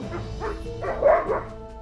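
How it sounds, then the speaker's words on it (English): A dog gives a short run of muffled barks and yips over a steady low background hum, fairly close and moderately loud, with no talking. "The dog started barking to get our attention."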